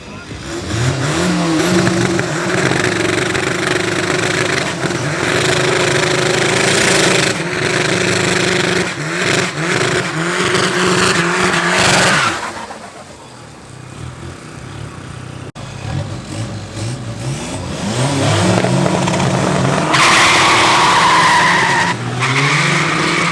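A Mini and a Polo race at Midvaal Raceway, engines roaring close and loud with tyre squeal and skidding, dropping briefly before revving back up, with a commentator talking over the action.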